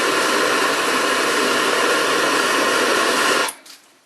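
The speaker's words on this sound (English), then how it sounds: "go ahead and solder it" A joint being soldered gives a loud, steady, close hiss like a torch flame, holding evenly for a few seconds before cutting off sharply into near silence.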